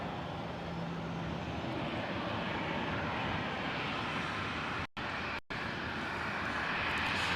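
A plane departing from the San Jose Airport runway, a steady broad engine roar that holds loud and dense throughout, with two very brief dropouts near the end.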